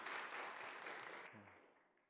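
A church congregation at a Friday worship service applauds the women's choir, a quiet mass of clapping that fades out over about two seconds.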